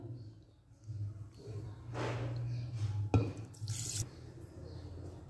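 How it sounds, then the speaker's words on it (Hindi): Cold milk, half a kilo, pours into a blender jar with apple and sugar for a milkshake, giving a short liquid gush and splash over a low hum, fairly close. "इसी के साथ मैं डाल दूंगी ठंडा दूध।"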